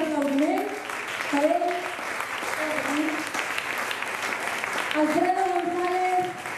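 Audience applause at a Sant Roc festival proclamation in a Catalan town, a continuous bed of clapping with people talking over it and a few louder swells.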